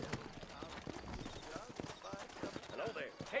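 Horse hooves clip-clop in rapid, uneven beats in a Western video game set in New Ulster, mixed under game voices and ambient noise.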